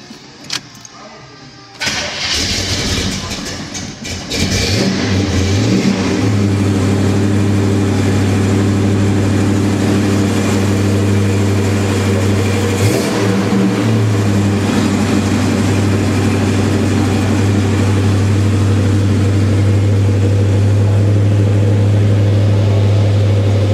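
A 1970 Chevelle SS454 muscle car's big V8 cranks over briefly, then fires and settles into a loud, steady, rumbling idle with a strong low drone, close up and sustained.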